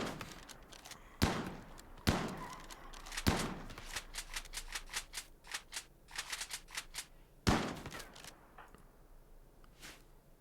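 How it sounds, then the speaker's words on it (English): Rimworld shotgun buckshot fire: several sharp, separate shots spaced a second or more apart, with clusters of quicker clicks and impacts between them, fairly faint overall. "he just got shot by buckshot"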